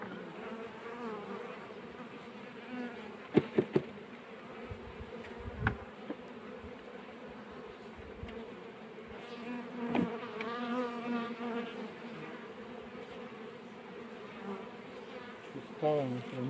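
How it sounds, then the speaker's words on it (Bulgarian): Honey bees buzz in a dense, continuous swarm hum as they are shaken off combs during an autumn colony merge, with a few sharp knocks and handling clatters from the frames mixed in. "скръскваме пчелите"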